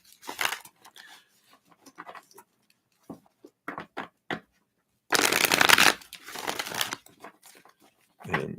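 Tarot cards are shuffled close by in riffling bursts and quick flicks, with a long loud riffle in the middle and brief pauses between.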